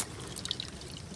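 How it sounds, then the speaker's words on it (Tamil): A short, quiet trickle of water flowing out from under a stone in a village, with faint bubbling and dripping, close by and steady, with no voices. "இங்கே வந்து வர்ற தண்ணி இந்த கல்லுக்கு அடியில் வந்து வருது."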